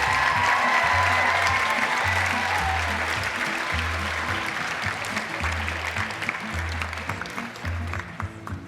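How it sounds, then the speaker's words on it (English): Audience applause at a university apparel design fashion show, steady clapping over a pulsing, repeating low music beat that continues as the clapping gradually thins out. "Let's give them all one last round of applause"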